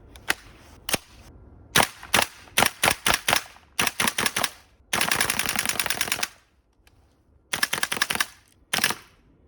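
A GHK M4 airsoft rifle fed from a green gas magazine fires sharp, close single shots and quick bursts, including one long rapid string, separated by brief silences.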